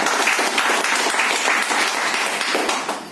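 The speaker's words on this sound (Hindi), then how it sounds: "जोरदार ताली होनी चाहिए" Dense, steady audience applause at an office testimonial gathering in Mumbai, sustained throughout and tapering slightly at the end, with no talk over it.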